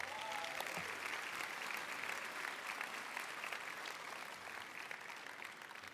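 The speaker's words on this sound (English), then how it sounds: "Let's give them a round of applause," Sustained applause from an audience at a college signing day, a steady dense wash of clapping for several seconds, fairly distant and moderately quiet, with faint crowd murmur underneath.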